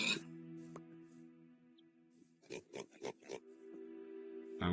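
Pigs dying in a video game give several short, rhythmic grunting squeals over a steady tonal game music bed, fairly close and moderately loud.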